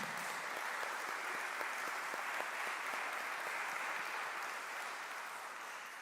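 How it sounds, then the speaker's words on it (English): A community gathering's audience gives a steady round of applause, dense and continuous clapping at even strength throughout, with no voices on top. "Let's give him a round of applause"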